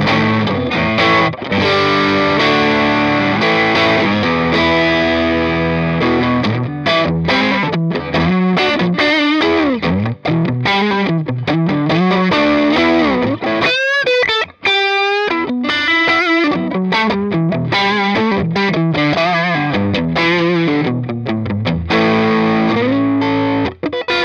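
An electric guitar on its neck pickup, with Alnico pickups, plays through a modified Fender Blues Jr tube amp, thick overdriven chords and lead lines with bends and a brief pause, loud and continuous with no talking.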